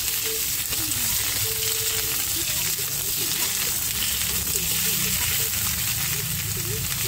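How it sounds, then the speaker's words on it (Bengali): Large-cut ridge gourd pieces sizzle continuously in a pan while being stirred, a constant hiss at close range, with a voice faintly audible underneath at times. "ঝিঙেটা কিন্তু আমি একটু বড় বড় করে কেটেছি, দেখো কীভাবে রান্না করে যাচ্ছে।"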